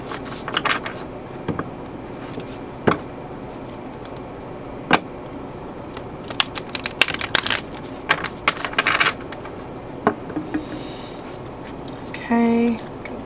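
Matte oracle cards shuffled by hand in a tarot reading, a run of soft, irregular riffling clicks and flicks, close and fairly quiet, with a brief voice near the end.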